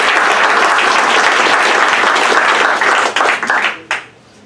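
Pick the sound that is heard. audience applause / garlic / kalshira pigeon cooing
audience applause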